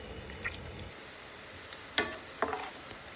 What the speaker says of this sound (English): Sauté on medium-low heat.